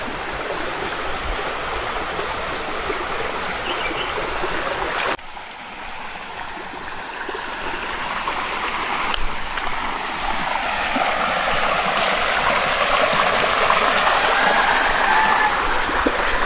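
Steady rushing water pouring over a low weir at a waterfall site in the Philippines, a continuous broadband splash that stays close and loud throughout with no talking.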